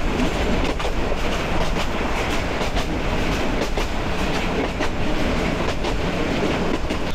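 A train runs along railway tracks near Islampur station, a loud, steady rumble with a continuous clickety-clack of wheels over the rails.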